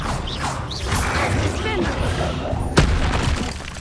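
Confringo fire-blast spells in Hogwarts Legacy burst out in quick succession amid other spell effects, with a sharp crack near the end, while a voice shouts incantations over them.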